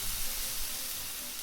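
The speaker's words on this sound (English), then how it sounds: "Hear that sizzle." Chicken sizzling in a hot pan for pasta, a close, steady frying hiss with faint crackles throughout a short moment.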